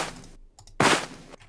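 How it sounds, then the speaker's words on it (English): A grass-cutting sound effect from an Unreal Engine 4 game: two short, crunchy, noisy swishes, the second louder and fuller, with a brief gap between them and no talking. "I luckily already have a cut grass sound."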